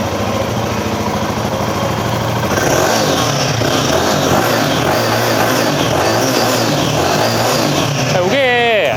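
The stock exhaust of a new Royal Enfield Himalayan 450 motorcycle revs up close, its loud, steady engine roar rising and holding before a brief voice at the end.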